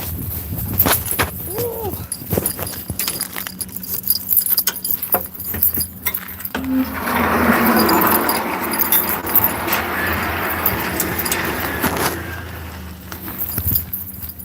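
Keys jangling in short bursts, with a longer rattling stretch in the middle, fairly close and moderately loud, with faint background noise.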